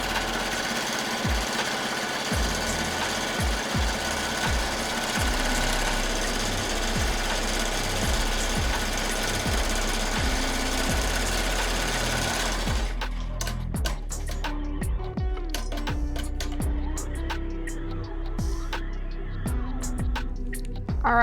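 A sewing machine stitches a quilted garment, running as a fast steady mechanical chatter for about twelve seconds, then stopping, followed by quieter scattered clicks and handling sounds, close and with no talk.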